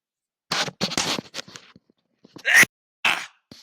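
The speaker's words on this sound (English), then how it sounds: "Hold on, I'm about to sneeze." A sharp sneeze bursts out after a few breathy intakes, loud and close, followed by brief gasping noises in a quiet room.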